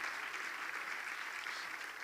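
Steady applause from a church congregation during a sermon, a continuous even wash of many hands clapping, fairly faint and distant, with no voices over it.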